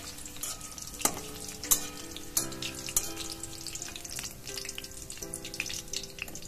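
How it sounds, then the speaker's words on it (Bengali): Soybean pakoras deep-frying in hot oil: a soft, continuous bubbling sizzle with occasional light clinks and scrapes as pieces are turned, fairly quiet and close, no talking. "একটু উল্টে পাল্টে ভেজে নিতে হবে।"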